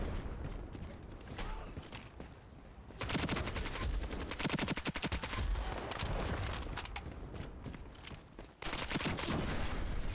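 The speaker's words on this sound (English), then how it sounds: "that guy shot me through the thing" Rapid automatic gunfire in the online shooter Ironsight, dense sustained bursts that drop briefly and then resume at full intensity, loud and close with no voices.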